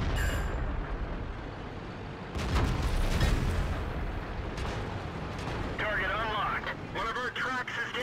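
Heavy tank cannon blasts and shell impacts from the World of Tanks video game, with a sharp burst of explosive fire under ongoing in-game effects and warbling radio-like chatter.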